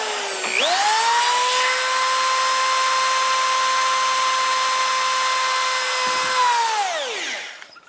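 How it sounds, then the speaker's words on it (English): A power drill bores holes into a cosplay Hylian Shield, spinning up to a steady, loud whine that holds for several seconds before winding down at the end. "just got a drill bit, and got a little mark there. So I'm just going to do 4 holes."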